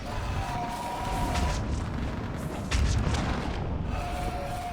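Fire support artillery in the Mass Effect 3 video game booms repeatedly in dense, continuous battle noise, with heavier blasts swelling near the end amid the roar of combat.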